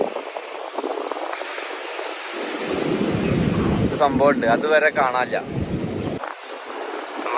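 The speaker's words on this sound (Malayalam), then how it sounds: "നല്ല തിരയുണ്ട്" Sea waves roll onto the beach at Khor Fakkan after rain, a steady rushing surf mixed with gusty wind buffeting the microphone, while people talk over it.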